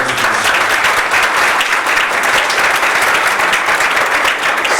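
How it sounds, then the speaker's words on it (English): An audience applauds at the IAMOT 2023 conference, a dense, steady burst of many hands clapping that fills the room without pause. "But a round of applause."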